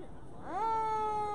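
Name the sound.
police sirens in the distance during a parade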